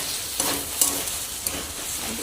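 Sliced okra (bhindi) frying in a pan gives a steady crackling sizzle, with a few soft scraping stirs coming through close by and no talking.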